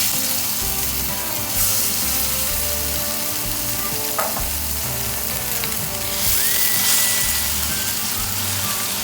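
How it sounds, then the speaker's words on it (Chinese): Minced beef sizzles steadily with garlic in oil in a hot pan, a loud continuous fry with occasional scraping of the stir-fry spatula, and no voices. "中小火翻炒"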